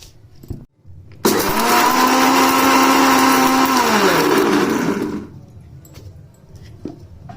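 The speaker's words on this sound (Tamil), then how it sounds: "இது நம்ம மிக்ஸி ஜாடியில் அரைச்சி எடுத்துக்கலாங்க" A mixer grinder grinding spices starts abruptly and whirs loudly and steadily for about four seconds, pitch dropping slightly as it winds down, with quiet clicks around it.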